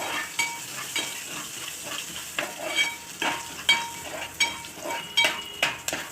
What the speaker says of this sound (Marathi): कढीपत्ता लसूण जिरं हिंग याची फोडणी